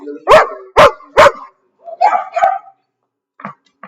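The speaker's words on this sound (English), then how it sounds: "I said no barking." Three loud, close dog barks in quick succession open the scene, followed by softer yips and whimpering vocalizations trailing off.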